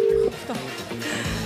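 A telephone keypad tone sounds once, clear and steady, as a number is dialed on a supermarket game show, then gives way to a soft, muffled background.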